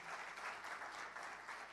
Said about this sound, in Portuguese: Você pode dar mais uma aplauso ao Senhor